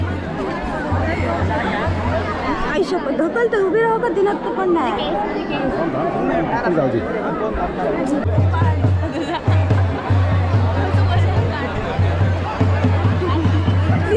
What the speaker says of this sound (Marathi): गर्दी बघा केवढी.